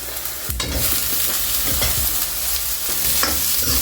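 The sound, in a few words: sliced capsicum added to sizzling pan for paneer Manchurian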